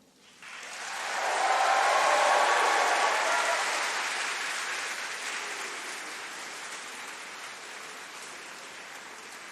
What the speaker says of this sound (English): I want a big round of applause and some cheering